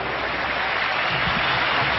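A football stadium crowd at a Banfield versus River match applauds, a dense, continuous wash of clapping that fills the space, with faint low crowd rumble underneath.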